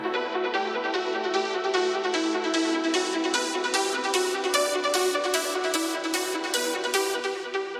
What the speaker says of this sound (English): We added in more of a staccato-based ARP